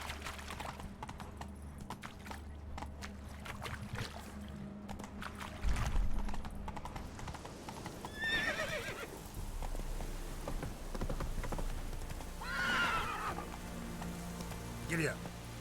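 A horse clip-clops at speed in the video game Witcher 3: Wild Hunt, with rhythmic hoofbeats and rain in the background, and two loud whinnies in the latter half.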